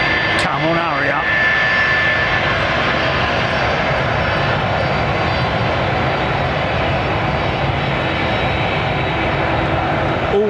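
Airbus A380 jet engines roar steadily and loudly while the aircraft taxis at London Heathrow Airport, a constant broad drone filling the whole stretch with no pause.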